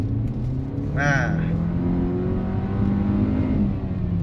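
A Hyundai petrol car with a 1500 cc engine accelerates, its steady low engine drone building throughout from inside the cabin, with a short spoken word near the start.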